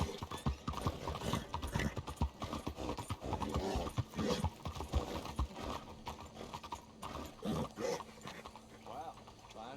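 Hooves clip-clop steadily on a road in the open world of Red Dead Redemption 2, mixed with game ambience, a dog and brief talk over the top.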